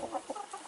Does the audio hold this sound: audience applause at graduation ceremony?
no